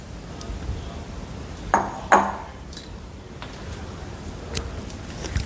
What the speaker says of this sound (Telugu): స్టవ్ ఆఫ్ చేసేసి మనం టోస్ట్ చేసుకున్న మకానాని దీంట్లో వేసేసి